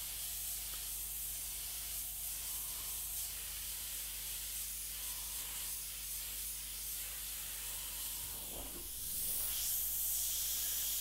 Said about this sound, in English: we're just spraying that straight over the top